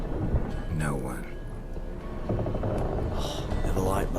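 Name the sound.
thunderstorm in The Witcher 3 video game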